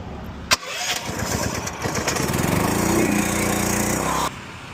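A pressure washer's gasoline engine is pull-started with a sharp tug, then roars up into a loud, steady running drone at close range before cutting off near the end, with no talk over it.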